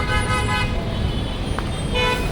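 Several car horns toot over a steady roar of road traffic in a traffic jam near Deekshabhoomi, short blasts overlapping near and far in a dense, noisy street.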